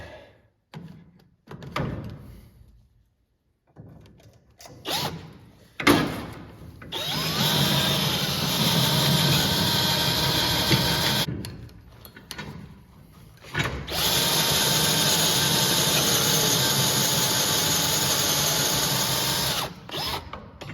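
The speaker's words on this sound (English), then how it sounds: "Just drill this out the rest of the way with this big." A big power drill bores out a hole in metal on a New Holland or Case IH header support arm, running in two long, loud sustained whirring bursts with short starts and clunks between them.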